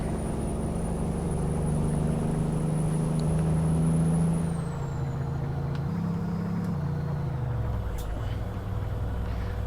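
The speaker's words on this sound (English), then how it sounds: "Now I kind of have my foot almost all the way down just to get this truck to move." A Kenworth W900 long sleeper truck in American Truck Simulator accelerates steadily in seventh gear with a heavy, sustained engine drone. The drone dips and shifts partway through, and a thin high whine fades out.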